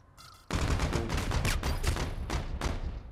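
Dense, sustained automatic gunfire in a Call of Duty competitive match, loud bursts running without a break after a short quiet lead-in.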